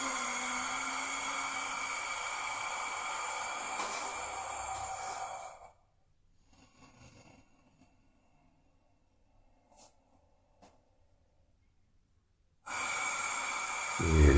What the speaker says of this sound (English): leaning forward into the end range and taking nice long deep breaths here